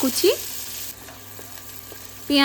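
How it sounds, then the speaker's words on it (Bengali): Onions hit hot mustard oil in a wok, a bright sizzle with a short squeak at the start and a louder burst returning at the end. "কড়াইয়ে সর্ষের তেল গরম করে তাতে দিয়ে দেবো পেঁয়াজ"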